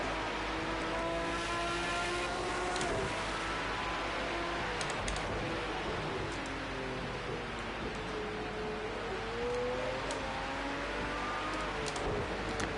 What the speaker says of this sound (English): You hear the Aston because it is the Aston.